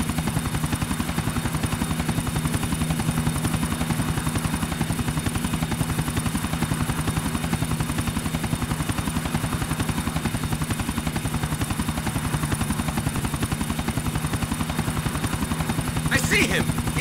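A helicopter in the video game GTA 4 flies steadily, its rotor producing a constant, rapid thumping drone that stays at an even level throughout.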